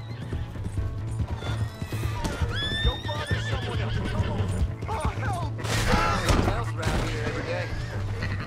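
Horse in Red Dead Redemption 2 neighing loudly while its hooves clip-clop at a gallop, close and prominent, with shouting voices and gunfire-like bangs in the game mix.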